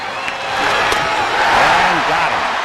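Baseball stadium crowd on its feet during a 0-2 count in the late innings, a loud sustained roar of cheering and whooping from thousands of fans, swelling steadily and holding near full volume throughout.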